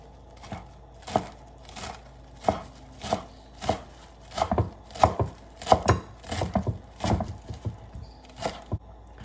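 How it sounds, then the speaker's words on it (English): A knife chopping vegetables and meat into thin slices for Bun Bo Hue, a steady series of close, sharp cuts striking a cutting board in an irregular rhythm. "You're gonna cut it in very tiny pieces, very thin slice."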